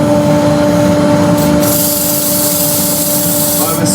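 Walnut, part seasoned and still somewhat damp, being sanded with 100 grit sandpaper on a lathe while turning a hollow form: a steady broadband rubbing hiss runs continuously over a constant motor hum, close and fairly loud.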